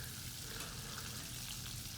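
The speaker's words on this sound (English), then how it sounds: "it's frying really good and quick" Fish pieces fry in hot oil for fish and chips, giving a soft, steady sizzle and crackle that stays even and fairly quiet, with no voices.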